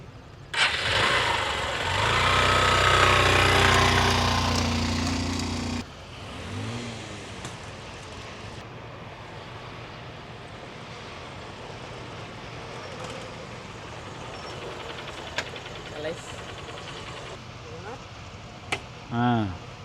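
A bike engine revs loudly up close for several seconds, then settles into a lower, quieter running drone with intermittent bumps, while voices talk over it.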